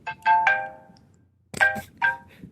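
A phone ringtone plays two short bursts of bright, tonal chimes separated by a brief pause, clear and close with no talking.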